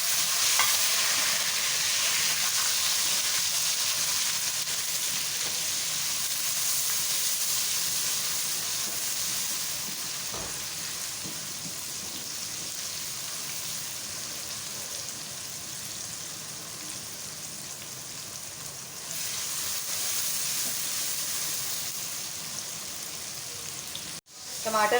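Tomatoes fry in hot ghee for aloo matar pulao, a loud, steady, dense sizzle that runs throughout with occasional stirring, ending with a brief clatter.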